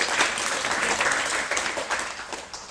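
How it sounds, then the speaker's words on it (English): A retreat audience claps in welcome, a short, fairly close wash of many hands applauding evenly for a couple of seconds. "welcome. Clap"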